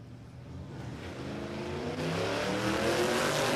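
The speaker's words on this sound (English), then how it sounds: "Kenny in the Willys has been getting faster and quicker every pass all weekend" An old-school supercharged Hemi engine in a Willys drag car roars at an Australian dragstrip, a steady, distant engine note that swells louder over a few seconds with no talking.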